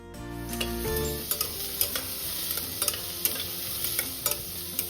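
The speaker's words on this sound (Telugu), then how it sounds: "పచ్చిమిరపకాయలు ఉల్లిపాయలు ఇవన్నీ ఇప్పుడు ఒకసారి కలుపుకుందాం" Green chillies and onions fry in a pan for sweet corn pulao while being stirred, producing a constant soft sizzle close by, punctuated by regular clinks and scrapes of the spoon against the pan.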